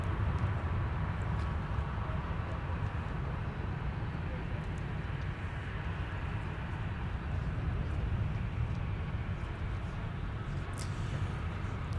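A Boeing 747 arriving from Louisville at Minneapolis–St. Paul airport gives a steady, broad engine roar that holds evenly throughout, fairly loud and continuous with no talk over it.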